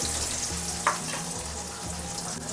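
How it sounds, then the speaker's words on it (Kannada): Urad dal frying in oil, a soft continuous sizzle with one brief sharper crackle or stir, close but fairly quiet, with a low steady hum underneath and no one talking. "ಇವಾಗ ಉದ್ದಿನಬೇಳೆ ಎಲ್ಲ ಫ್ರೈ ಆಗಲಿ"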